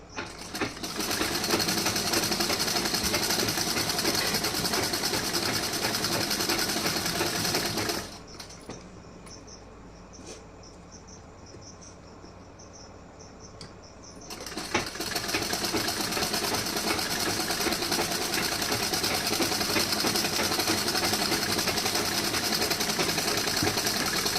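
Sewing machine stitching tucks on a blouse, a steady fast mechanical whir that runs continuously, stops for several seconds of quiet, then resumes at the same loud, even pace.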